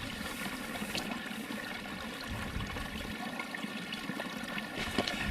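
Water from a small coastal stream trickles and gurgles as hiking water bottles are filled outdoors. The flow is faint and continuous, with soft splashy detail and no talk.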